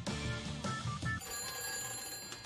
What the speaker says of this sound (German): Das Telefon klingeln könnten sie echt abstellen, ey.